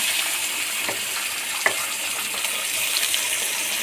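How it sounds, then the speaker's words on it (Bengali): Onions frying in oil in a wok with bay leaf give a steady, close sizzling hiss, with a couple of faint clinks of a utensil and no talking. "পেঁয়াজ আধ ভাজা হয়ে গেছে"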